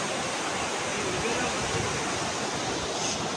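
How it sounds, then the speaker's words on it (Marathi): Ocean waves churning on a rough sea at sunset, a dense, continuous roar of surf close by with no distinct breaks, loud and steady throughout. "लाटा कशी भारी"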